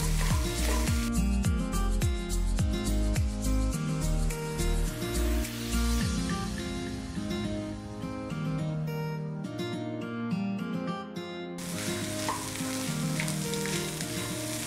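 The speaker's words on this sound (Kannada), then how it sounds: "ಸ್ವಲ್ಪ ಫ್ರೈ ಮಾಡ್ಕೊಳ್ಳೋಣ ಇಷ್ಟನ್ನು." Garam masala and chilli powder fry in a pan for a spicy egg side dish, sizzling steadily and close throughout, with music playing over it.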